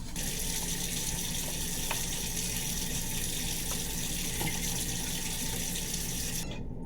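A kitchen tap runs full force into a pot, a loud, steady gush of water that keeps a constant level for several seconds and then cuts off abruptly at the end.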